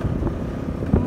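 Motorcycle riding along a rough unpaved road, a close, steady engine rumble mixed with wind buffeting and a brief jolt near the end.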